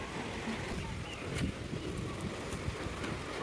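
Steady wind buffets the microphone outdoors beside the water, where kayakers and paddleboarders are out on a current. The rush stays loud and continuous throughout, with faint lapping underneath.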